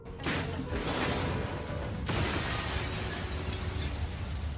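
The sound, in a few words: explosion sound effect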